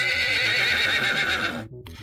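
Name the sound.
horse neigh sound effect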